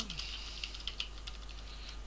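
Someone types on a computer keyboard while repairing a Dell Vostro PC running Vista. Quick, light key clicks come in a busy run over a steady low hum.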